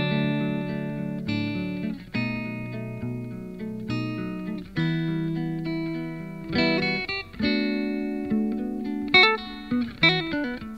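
Sampled guitar from a record, warm sustained chords and melodic lines with soft percussive accents, a steady mellow soul groove playing alone with no talking.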